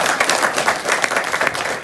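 Audience applause at a seminar: a dense, steady wash of many hands clapping together, fairly close and even in level, with no voices standing out.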